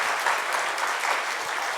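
Steady, fairly loud applause from a church congregation welcoming a guest pastor at a Korean dedication service, a dense, even patter of many hands clapping without a break.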